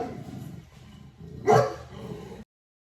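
Dogs barking in the background, a few muffled low woofs followed by one sharp louder bark near the end before the sound cuts off abruptly.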